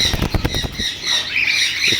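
Cockatiels at an outdoor Sunday bird market squawk in sharp, close calls, a quick run of chirps followed by a longer shrill cry over steady background chatter of other birds.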